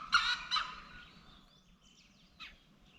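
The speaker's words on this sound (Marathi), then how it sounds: "ॲक्च्युली मोर नाही हा कोंबडा होता" Rooster crowing in the Tadoba Andhari Tiger Reserve jungle, two loud close calls early on, then faint bird calls and a brief squawk later over quiet forest ambience.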